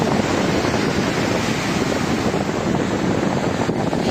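Sea waves crash and splash loudly onto a beach, spray flying, in a dense continuous roar with strong wind buffeting the microphone close up.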